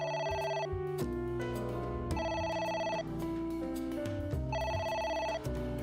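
A telephone rings repeatedly inside the video game AI: The Somnium Files, a loud electronic ring in steady repeating bursts with no one talking over it.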